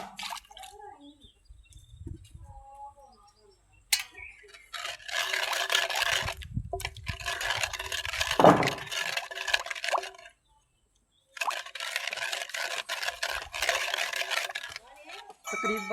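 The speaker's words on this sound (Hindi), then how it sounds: "तकरीबन 4 कोल पानी डालना है हमने इसमें अब प्याले की मदद से।" Water poured from a cup into a bowl while making sardai (thandai), in bursts of broadband splashing with short pauses between pours, fairly close and clear.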